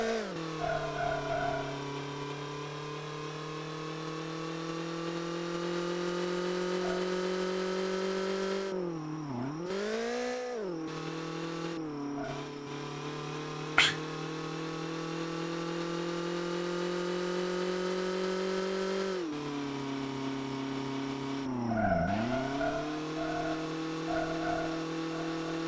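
A car engine droning steadily in the GangVerse roleplay video game, with shifting revs as gears change and a few dips and climbs in pitch, mid-level and continuous with no talk.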